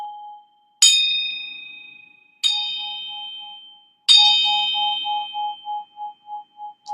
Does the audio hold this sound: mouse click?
no